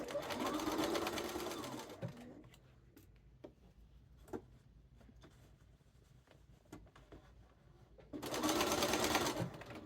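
A sewing machine runs in two loud bursts, stitching shirt cuffs, at the start and near the end, with a quieter stretch of small ticks and handling noises between them.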